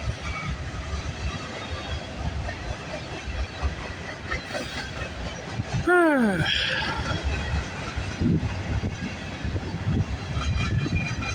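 A freight train with a tank car rolls past at moderate distance, its steady rumble and clatter carrying on throughout. A short descending squeal sounds near the middle, and faint voices murmur in the background.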